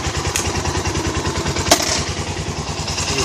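A 2016 Suzuki Boulevard S40 motorcycle idles with a steady, close, pulsing engine rumble, broken once midway by a single sharp mechanical clunk as it is shifted into first gear.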